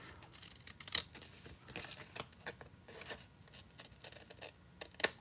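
Scissors trim a paper card in a stamping and papercraft session, giving a few soft, close snips with a sharper cut near the start and another at the end over quiet background.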